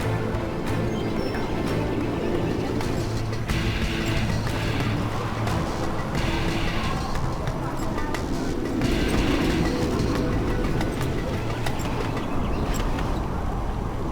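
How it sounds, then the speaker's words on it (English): Train rolling out in Command & Conquer Generals Zero Hour, a steady rumbling rail noise with faint clatter running throughout, no talk over it. "The train will depart when it is completely full."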